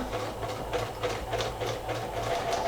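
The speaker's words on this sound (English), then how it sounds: "I'm just going to stitch right across the tear." Close up, a sewing machine runs a darning stitch across a torn belt loop, its motor humming steadily under a rapid, even needle patter, with no talking.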